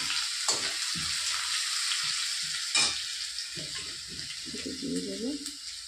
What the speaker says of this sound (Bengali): রসুনটা একটু ভাজা ভাজা হয়ে গেলে দিয়ে দেবো পেঁয়াজ।